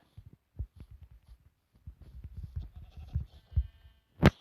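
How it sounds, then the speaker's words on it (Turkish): A single Minecraft sheep bleat rings out near the end, following a series of soft, irregular thumping steps. "Bir tane daha koyun var burada."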